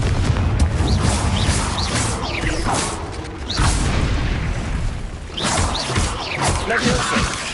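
Confringo blasting spell in Hogwarts Legacy, loud booming blasts with crackling debris and whooshes rolling over one another almost without pause.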